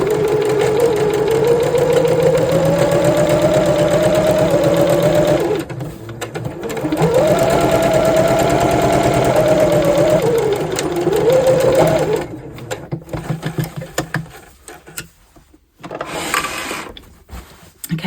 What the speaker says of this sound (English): I'm going to grab my sewing machine and I'm going to sew just along the horizontal line